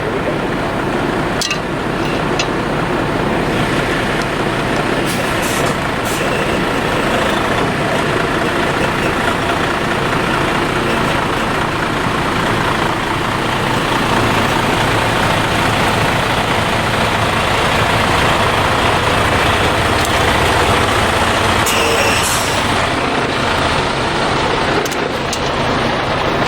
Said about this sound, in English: see how it holds up getting run over by a tractor trailer